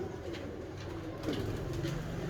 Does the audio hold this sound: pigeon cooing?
yes